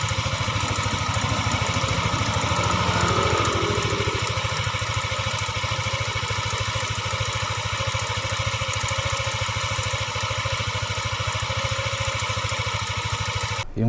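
A Yamaha NMAX V2 scooter engine idles steadily with a fast, continuous mechanical ticking running through its drone, loud and close throughout.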